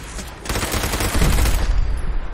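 Automatic weapon fire in Fallout 4, a sustained rapid burst of shots that builds from about half a second in and stays loud and dense to the end, with no talking over it.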